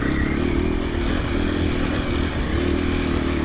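A 2024 KTM 500 EXC-F dirt bike with stock ECU mapping ridden in third gear, a loud, close, steady engine drone with a slight rise and fall in pitch and some rattling clatter.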